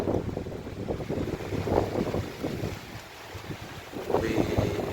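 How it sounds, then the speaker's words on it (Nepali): Strong wind buffets and roars in uneven gusts, rumbling against the microphone and swelling again toward the end. "यस्तो डरलाग्दो हावा चलिरहेको छ"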